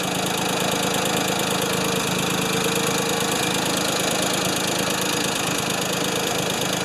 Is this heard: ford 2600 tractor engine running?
yes